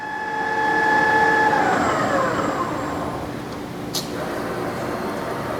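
A TRAK TRL 1840SX 18-by-40-inch 2-axis CNC/manual flat bed lathe running in the high range at 1200 RPM, with a steady mechanical whir and tones that fall as the spindle changes speed, and one short click near the end.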